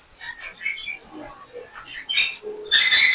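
King quail birds kept as pairs, giving soft chirps and faint calls in a close, quiet setting, with a louder hissy burst near the end.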